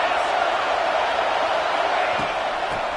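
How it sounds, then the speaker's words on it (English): Football stadium crowd roaring while the defense is on the field, a dense, continuous wall of cheering from a large crowd, steady and loud throughout the few seconds. "This crowd ready to make its presence known."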